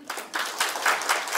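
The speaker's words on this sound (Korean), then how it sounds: "그 점에 동의하신 박수 한번 치십시오." A lecture audience at a Korea University biosecurity session claps in agreement, a brief scattered burst of hand claps coming in a few soft, uneven pulses, moderately quiet and a little distant, with no talk.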